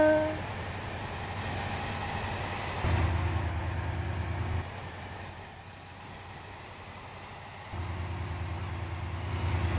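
A Class 68 train in Roblox SCR runs toward Morganstown with a steady, close rumble and hum that steps louder and quieter as the motor sound shifts, with no talk.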